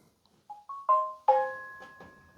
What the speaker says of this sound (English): I don't know why my phone's yelling.